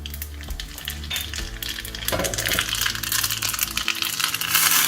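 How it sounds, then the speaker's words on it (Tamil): Mustard seeds and spices crackle and sizzle in hot oil, a dense continuous frying hiss with scattered pops, growing louder toward the end. "1 ஸ்பூன் எண்ணெய் ஊற்றிக்கிறேன். கடுகு 1 ஸ்பூன் போட்டுக்கலாம்."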